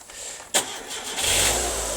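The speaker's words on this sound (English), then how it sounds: "show you how the engine starts. So it starts well." The engine of a Rover 214 Cabriolet cranks briefly, catches and settles into a steady idle that gets louder. The sound is close and clear, with no talking.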